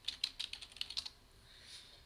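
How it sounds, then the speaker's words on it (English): A computer keyboard is typed on in quick, faint, close clicks, about eight strokes in a second, then a quiet room hiss. "I don't know why I'm typing in chat."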